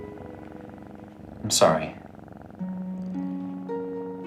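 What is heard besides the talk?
old cat purring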